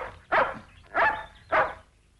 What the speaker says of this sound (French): Tu es un bon chien, Lancelot.